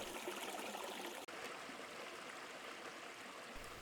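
Creek water flows steadily over a streambed nearby, a constant broadband rush and trickle with one brief dropout partway through and no voices.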